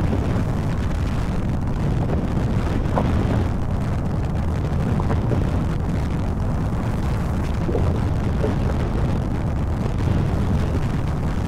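Steady, roaring wind buffeting the microphone while riding a Honda Forza scooter on the road toward Cameron Highlands, a dense low rumble that stays loud and unbroken throughout with no voices.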